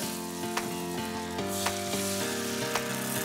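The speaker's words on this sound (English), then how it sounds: "I have to brown the butter just a little bit for more flavor." Butter sizzles steadily in a pan over low to medium heat as it browns before scrambled eggs go in, a close, constant crackling hiss broken by a few brief clicks of stirring, with no one speaking.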